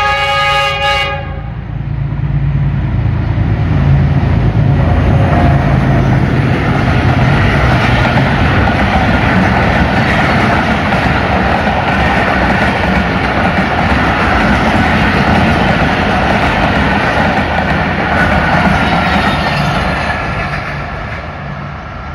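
The 40 Down Jaffar Express passenger train, led by diesel locomotive 4556 GU20, passes Kot Lakhpat Railway Station. A short horn blast opens, then a long, loud, steady roar of rolling coaches fades slightly at the end.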